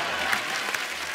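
Studio audience applause at a Hindi comedy talk show as a guest singer is invited onstage, a steady dense wash of clapping with a couple of louder bursts, filling the short moment without talk.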